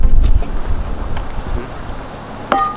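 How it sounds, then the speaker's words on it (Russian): Strong wind by a lake buffets and roars across the microphone in gusts, loud low rumbling with no voices. "Чересчур сильный ветер, да, походу?"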